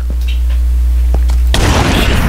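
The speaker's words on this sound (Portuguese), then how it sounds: "ele dá um tiro atrás da outra" A sharp boom and scattered pops ring out, followed by a loud sustained crackling blast of rapid gunfire in Minecraft that fills the rest of the clip.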